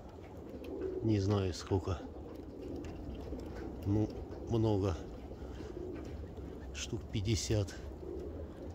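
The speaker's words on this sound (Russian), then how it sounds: "Много, много голубей наверху." Pigeons coo in short low bursts, several separate calls spread across the scene at moderate distance, while someone talks between and over them outdoors.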